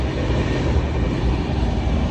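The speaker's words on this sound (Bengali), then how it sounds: "এত জোরে চলছে, আর ট্রেনে তার সাথে সাউন্ড, কিচ্ছু শোনা যাচ্ছে না" A steady, loud rumble of a fast-moving train on the Kolkata-Bangalore route fills the whole stretch, with broadband rattling noise and no pauses.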